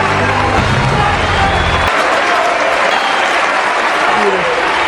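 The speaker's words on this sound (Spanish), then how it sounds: "toda la audiencia se sintió identificada y los aplausos no tardaron en llegar" A large courtroom audience in a film set in Argentina bursts into sustained applause, dense clapping and crowd noise that stays loud throughout, with a low music tone dropping out partway.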